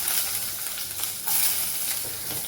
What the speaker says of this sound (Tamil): ஒரு ஸ்பூன் எண்ணெய் ஊற்றிட்டு இதெல்லாம் வதக்கி அரைக்க போகிறோம்.